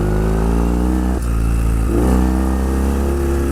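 A Ural sidecar motorcycle engine drones steadily up close, its rumbling, throbbing tone lifting briefly as throttle is given, with a small dip and recovery midway through.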